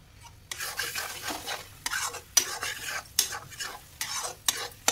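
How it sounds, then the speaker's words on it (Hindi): Spices fry in a pan for shahi paneer in a home kitchen, a soft sizzle broken by repeated scraping strokes of a spoon stirring the pan in a steady rhythm, close and fairly quiet. "उधर मैं मसाले फ्राई कर रही हूँ सब्जी के लिए"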